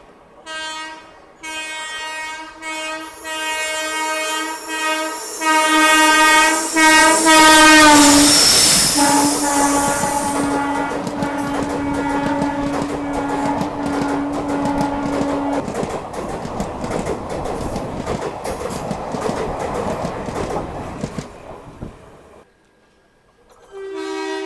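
An Indian Railways Duronto Express is overtaken on the line, bringing a loud, drawn-out horn blast followed by a long rumbling, clattering pass of wagons that fades near the end.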